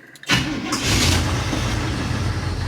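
A vehicle engine, in gear with no neutral safety switch, cranks briefly and catches, then runs loud and steady up close.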